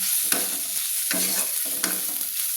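Garlic and ginger paste with spices frying and being stirred in hot oil, a steady close sizzle with several scraping stirs of the spatula, no voices.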